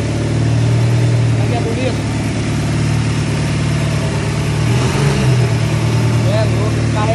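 A Chevrolet Caravan's engine idles nearby with a deep, steady, rumbling drone, loud and continuous throughout, while someone talks over it at a gathering of cars.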